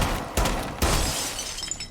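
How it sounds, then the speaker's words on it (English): Gunfire shatters window glass in a video game, two sharp close impacts a fraction of a second apart, each followed by a bright crash of breaking glass and a tinkling tail. "You want to just shoot around the barricade until you hear the glass break."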